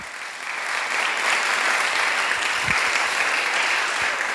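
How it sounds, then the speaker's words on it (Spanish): Church congregation applauding steadily throughout a Spanish-language sermon service, a dense, sustained wash of clapping with no speech over it. "Denle un aplauso al Señor."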